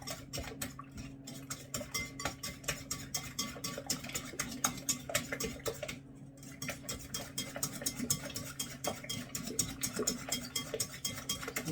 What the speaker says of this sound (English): You give it a good mix